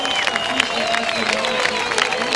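A crowd at the Moche Rip Curl Pro Portugal surf contest cheers and applauds in a steady, lively roar, with a voice rising faintly above the noise.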